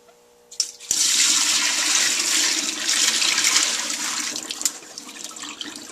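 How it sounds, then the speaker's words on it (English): Water drains out of a bowl of pomegranate seeds through a strainer, starting abruptly after a faint clatter and pouring as a loud, close, steady splashing rush that eases slightly near the end. "then I'm going to drain my water out"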